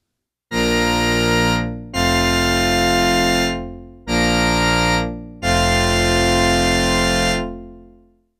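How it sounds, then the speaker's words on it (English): An OB-X8 synthesizer playing its Pipe Organ preset: four sustained, harmonically rich chords in succession, each held for a second or two and then cut off, loud and close with no talk. "B5 is called Pipe Organ."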